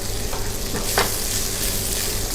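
Snow peas and green beans stir-fry in a hot pan, giving a constant bright sizzle up close with one quick scrape of a spatula partway through.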